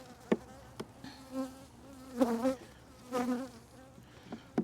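Honey bees on hive frames make a soft, steady buzzing drone, with a few sharp, louder passes as single bees fly close by, over a low background hum.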